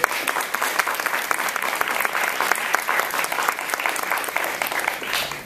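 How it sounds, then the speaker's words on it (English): Audience members at a community awards ceremony clap for the co-host, with continuous, lively applause filling the room at an even, fairly loud level throughout. "Please give him a little round of applause"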